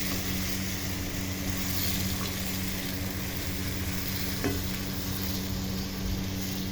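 Pakbet vegetables are stirred in a pan under a dense, steady sizzle that fills the whole stretch. Soft scraping of the stirring is faint and nearly buried beneath the loud, close frying, with no speech.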